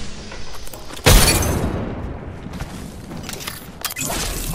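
A grenade detonates in Apex Legends with a single loud, sharp boom that decays into a rumbling, debris-filled tail, set among game sounds and a later smaller pop.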